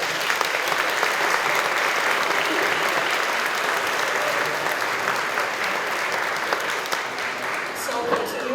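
A large audience at a Norwegian bunad folk-costume style show applauds in a dense, steady wash of clapping that holds for several seconds before thinning slightly at the end.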